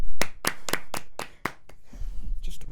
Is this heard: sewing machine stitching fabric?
no